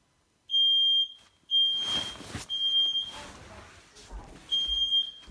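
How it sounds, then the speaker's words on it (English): Nest Protect smoke alarms in a house sound off in repeated loud, piercing high beeps, three or four bursts separated by muffled room noise and faint talk. "So that's my alarm going off there."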